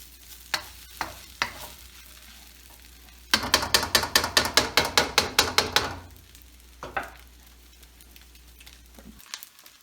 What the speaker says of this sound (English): And we're just going to let this fry for a little bit.